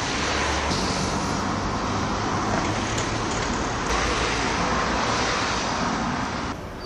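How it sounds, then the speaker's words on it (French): Buses pull away from the cruise ship quay at Port Est, Réunion, a dense, continuous roar of engines and road noise that holds steady and eases slightly at the end. "il y a encore des bus qui s'en vont après avoir livré leurs touristes"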